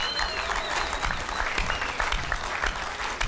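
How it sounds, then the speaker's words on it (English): A television studio audience on a footy talk show claps steadily and loudly, a continuous dense applause lasting the whole few seconds with faint whistles mixed in. "give him a round of applause."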